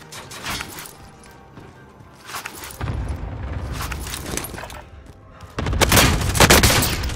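Gunfire in the battle royale game Warzone comes in several rapid bursts, some distant and some louder and closer, with quieter gaps between the volleys.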